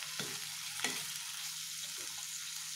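Ivy gourd stir-fries over medium heat in a pan with a soft, low sizzle, broken by two or three light clinks of a spoon stirring it.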